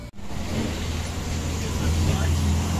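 Steady roar of cars passing on a busy main road near a parked Kombi motorhome, a continuous close traffic rumble with engines rising and fading, and no voices over it.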